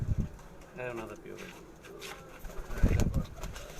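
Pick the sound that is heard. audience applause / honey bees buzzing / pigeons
pigeons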